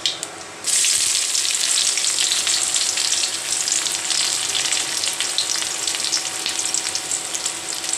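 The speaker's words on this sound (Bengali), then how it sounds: "পেঁয়াজটা ভাজা হয়ে গিয়েছে" Garlic and onion with a pinch of panch phoron hit hot oil in a frying pan for a lentil dal. After a brief quiet moment, a loud, bright, hissing sizzle bursts in and holds steady to the end.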